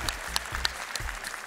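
An audience at the Miss Polski 2019 pageant final applauds a contestant, dense clapping at a steady level for a short stretch with a few sharper claps standing out.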